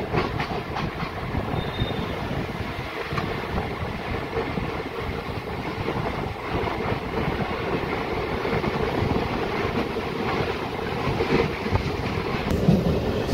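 A DEMU local train runs without stopping past Alwal railway station on a double-line track, a steady loud rumble with rattling wagons and faint clickety-clack throughout, wind buffeting the microphone.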